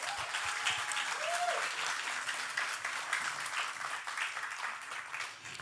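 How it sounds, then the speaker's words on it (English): Audience clapping at an Emancipation Day celebration, a fairly quiet but continuous spread of applause from a seated crowd, holding steady and easing slightly at the end. "Give them another applause."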